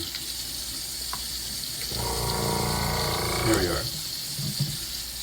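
Tap water gushes into a sink for about two seconds while a spray gun is cleaned with soap, a steady nearby splash that stops abruptly, with a brief spoken phrase near the start.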